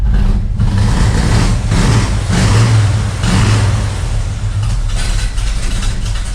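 A 1961 Pontiac Laurentian engine running steadily just after its first start in 30 years, a loud, close, continuous rumble with a rough low idle that swells slightly in places, no talking over it.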